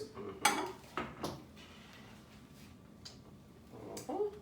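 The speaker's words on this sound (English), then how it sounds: "This is going to go on the stove to get warm." A cooking pot set down on a home stovetop while risotto with zucchini and pistachios is prepared: a few close, sharp metallic clanks and knocks in a quiet kitchen, with a softer scrape near the end.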